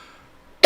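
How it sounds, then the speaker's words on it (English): A single loud, close cough bursts out abruptly at the very end after near silence. "you have a 100-year cough"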